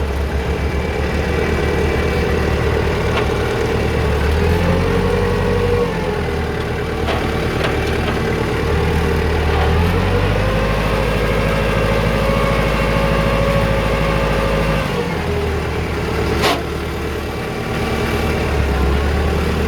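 A Kubota L4508 four-wheel-drive tractor idles steadily and loudly up close, a low, even diesel rumble that holds for the whole stretch with slight shifts in pitch and one brief sharp click.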